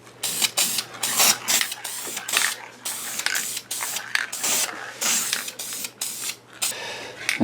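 Short bursts of spray paint hiss from a rattle can as a coat goes onto Mercedes-Benz W126 wheels, close and loud, in quick repeated strokes with brief pauses between.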